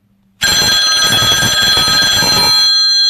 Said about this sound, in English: Decline that phone call.